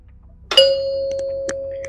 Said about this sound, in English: when you push the button, that completes the circuit and rings the little bells there